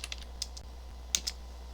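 A handful of light keystrokes on a computer keyboard tap out close and soft against a steady low hum in a quiet room.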